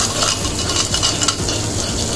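Curry leaves, rampe, onion and green chillies frying in oil in a clay pot, a constant close sizzle with stirring scrapes running through it and no talk.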